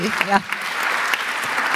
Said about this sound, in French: Mais on peut vous applaudir, effectivement, bravo.